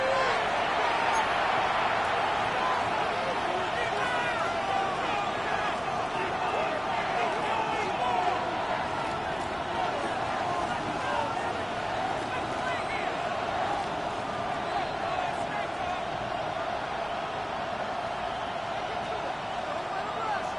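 Steady stadium crowd noise from a Madden football game, a broad roaring din that holds evenly throughout with muffled thumps beneath it.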